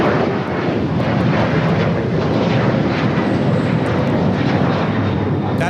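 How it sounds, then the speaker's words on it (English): A Delta Air Lines Boeing 737-900ER takes off from Los Angeles bound for Atlanta, a loud, steady jet roar filling the air without letting up. "327 taking off to Atlanta on the 737-900 ER."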